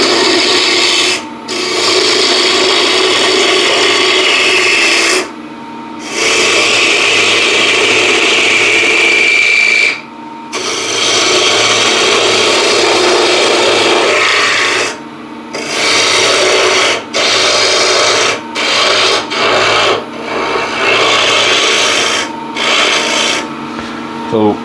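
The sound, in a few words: roughing out crossgrain wood on lathe with 1/2 inch spindle gouge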